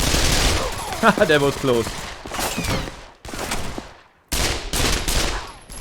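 Video game weapon fire, apparently a machine gun, crackles in rapid bursts with short pauses and a near-silent gap partway through, while someone speaks over it.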